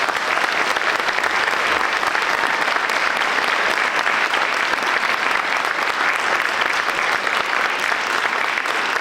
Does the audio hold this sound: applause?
yes